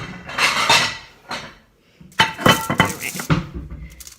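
Ceramic plate lifted from a kitchen stack and set down on a counter, with two bursts of clinking dish and cutlery clatter split by a short quiet gap.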